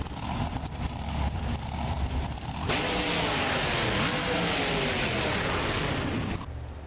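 Monster truck engine in BeamNG Drive at a Monster Jam world finals event, loud and continuous, revving up partway through into a dense, roaring surge before cutting off abruptly near the end.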